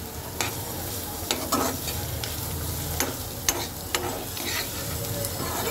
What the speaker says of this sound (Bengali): পেঁয়াজ আর রসুনটা কিন্তু খুব সুন্দর মতন ভাজা হয়ে গেছে